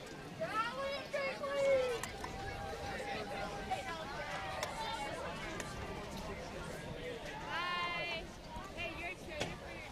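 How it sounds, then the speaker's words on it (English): Crowd of spectators streaming out after a Triton versus Ipswich game, a steady murmur of many overlapping voices with scattered louder calls, fairly close and continuous throughout. "Oh, the crowds are going to stream out by us."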